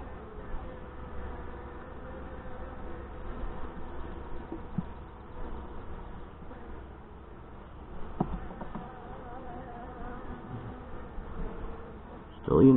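Honey bees from a Saskatraz hive opened for inspection, a dense, continuous buzzing hum at moderate level throughout, with faint handling noises and a brief louder rustle at the end.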